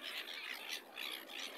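Seagulls being fed leftover bread give a run of repeated high, harsh squawks, moderately faint and somewhat distant, with no other sound over them.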